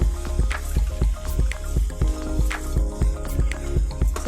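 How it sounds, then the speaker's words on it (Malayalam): Flattened rice (aval) frying in sunflower oil in a pan on a low flame, a close squishy sizzle with regular scraping clicks about twice a second as it is stirred; no speech. "നമുക്ക് അവലൊന്ന് വറുത്തെടുക്കണം."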